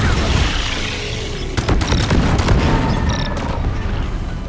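Loud, dense booms and crackling blasts from exploders in a video game fill the clip, with bursts of debris-like pops scattered throughout.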